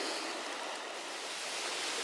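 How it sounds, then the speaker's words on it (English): Elk River rushes steadily past, a continuous broadband roar of flowing water heard nearby with no voices over it. "this is Elk River"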